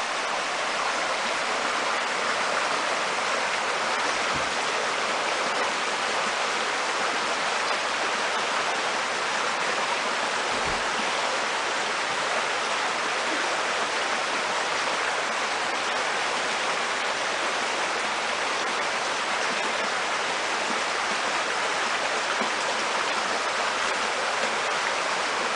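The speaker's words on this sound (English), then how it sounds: "This is a nice little stream here. You can hear it 24 hours a day." A small flowing stream gives a continuous, even rush of water close by, steady and broadband for the whole stretch, with no voices.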